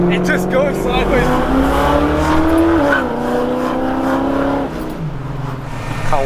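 An Australian car drifting sideways, its engine revving loud and close with rising and falling pitch sweeps, a steady roar that holds for several seconds, with possible tire squeal mixed in.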